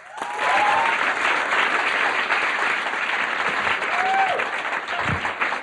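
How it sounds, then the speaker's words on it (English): Enthusiastic audience applause, a dense steady wash of clapping from a crowd that holds strong for several seconds before starting to thin out. "let's have a nice round of applause"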